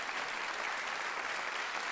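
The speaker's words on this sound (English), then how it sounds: "So let's have another round of applause for all of our competitors." A concert-hall audience at a young chamber musicians competition claps for the competitors, a dense, steady round of applause throughout.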